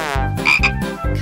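A frog gives three loud, throaty croaks in quick succession, evenly spaced and close by.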